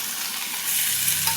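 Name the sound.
tomatoes added to sizzling onions in a frying pan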